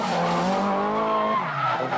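The Falken Tires Mazda RX-7 drifting at a Formula Drift event at Soldier Field, Chicago, with its tires skidding in a loud, continuous squeal and a sustained engine note that dips slightly toward the end.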